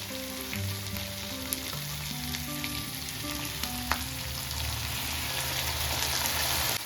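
Rice and chicken frying in a pan for mixed non-veg fried rice as soy sauce is poured in, giving a steady close sizzle with light stirring clicks and no talk.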